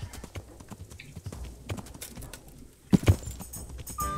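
Horse hooves clip-clop in the video game Kingdom Come Deliverance, a quick irregular run of near hoofbeats with a couple of louder thumps toward the end, no talk.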